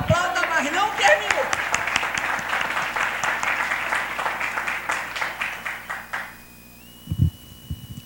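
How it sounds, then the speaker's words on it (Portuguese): A church congregation applauds through a worship service, with dense, steady clapping that fills the room and then fades away. A voice is briefly heard at the start, and a quieter pause follows the applause. "Aplauda, mas não terminou."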